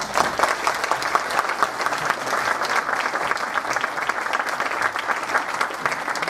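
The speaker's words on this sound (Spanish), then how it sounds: "ya como colofón, un aplauso" Steady, dense audience applause at a debate panel on the limits and scope of amnesty, many hands clapping at an even level throughout without a break.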